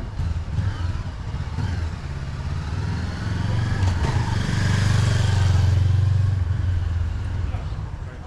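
Motorbikes on a street in Lewisham, London, growl and rev close by, building to a louder engine drone in the middle before easing off, with voices faintly underneath.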